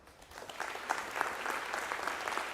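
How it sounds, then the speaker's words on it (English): A commencement audience claps for a graduate, a brief burst of many hands applauding that rises quickly and holds steady, moderately loud across the hall. "Let's give him a big round of applause."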